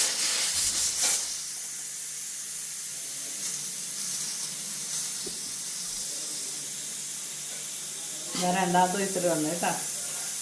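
A pressure cooker cooking goat tripe (potti) hisses with a loud, steady steam whistle for several seconds, with a voice speaking briefly near the end.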